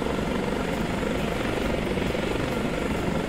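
Helicopter rotor and engine noise from Microsoft Flight Simulator X, a steady, dense drone that holds unchanged throughout with no voices over it.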